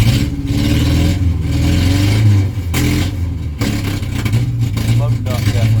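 A Ford Ranger engine catches and runs roughly, revving up and dropping back in uneven surges, loud and close, with someone talking briefly over it.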